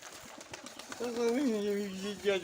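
At a pigeon loft, a pigeon lifts off with a brief soft flutter of wings, followed by a close, sustained cooing call, with faint talk in the background.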